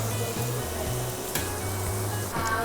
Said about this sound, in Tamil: மேரினேட் பண்ண சிக்கனை வந்து இப்போ நம்ம ஃப்ரை பண்ண போகிறோம்